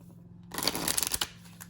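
A Moonology Oracle deck with matte, silky cards is shuffled by hand, a brief flurry of soft riffling flaps lasting about a second, close and fairly quiet, with no talking.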